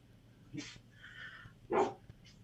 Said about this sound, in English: your dogs are barking, by the way.